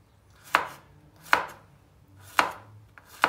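Four crisp knife chops strike a cutting board at a steady, unhurried pace as a vegetable is diced into cubes, with a faint tap between the last two. Close and clear, no talking.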